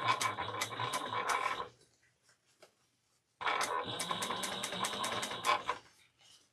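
Sewing machine stitching a travel bag runs in two steady bursts of rapid needle chatter, close and fairly loud, with a short quiet pause between them.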